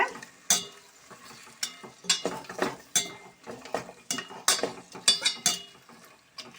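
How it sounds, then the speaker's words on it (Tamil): Mutton bone curry with ginger and garlic is stirred in a pot, giving close, rhythmic metal scrapes and clinks from a spoon, about a dozen quick strokes in a steady pattern. "இதை அப்படியே நல்லா கிளறி விடுங்க."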